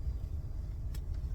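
Low rumbling of a car rolling slowly along a dark riverside campsite track near Cobbler Pool on the Avon River, steady engine and tyre noise, close and subdued, with no talk.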